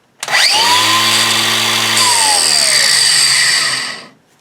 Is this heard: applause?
no